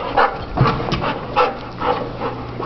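Golden retrievers make repeated short yips and whimpering barks at close range, loud and steady over a few seconds with a low hum underneath.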